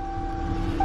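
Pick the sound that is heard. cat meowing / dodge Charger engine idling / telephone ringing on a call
dodge Charger engine idling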